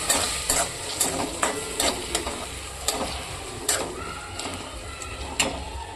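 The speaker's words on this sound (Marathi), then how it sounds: "मी मस्त अशी हलवून घेतली आहे भाजीला" Moong dal and fenugreek leaves stirred in hot oil for a Marathi methi bhaji, with a constant sizzle and a series of sharp scraping, clinking strokes of the spoon against the pan.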